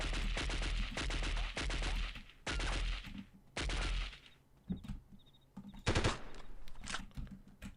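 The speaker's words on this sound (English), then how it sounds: "Someone's over here shooting at us." Bursts of automatic gunfire in the 1998 tactical shooter Delta Force, several loud rapid volleys in close succession followed by quieter scattered shots and a final sharp burst.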